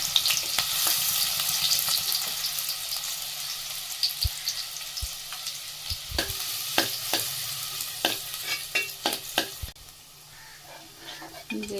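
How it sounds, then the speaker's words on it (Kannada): Onion dropped into hot oil for a tempering for hithkada bele keema sambar sizzles with a steady, loud hiss, punctuated by scattered clicks and taps of stirring, then eases slightly toward the end. "ಎಣ್ಣೆ ಬಿಸಿಯಾಗೈತೆ ಒಗ್ಗರಣೆಗೆ ಸ್ವಲ್ಪ ಈರುಳ್ಳಿ ಹಾಕೋತೀನಿ"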